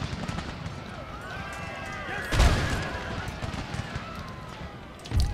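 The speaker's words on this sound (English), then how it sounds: "Now let's get a volley from these guys right here. Oh no, they're shooting over here." Musket volley gunfire in the Napoleonic-era strategy game Darthmod Empire: a loud crackling burst of massed shots midway, another sharp volley at the end, over a constant din of battle noise and marching troops.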